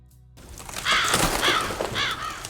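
Several harsh crow caws ring out in a repeating series, fairly close and loud, following a brief moment of near silence.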